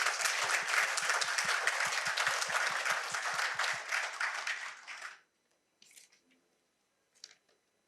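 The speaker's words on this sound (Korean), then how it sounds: "박한일 총장께도 박수 한번 쳐주십시오." An audience at a university lecture bursts into applause: about five seconds of dense, close clapping that fades quickly into near silence, followed by a few faint stray sounds.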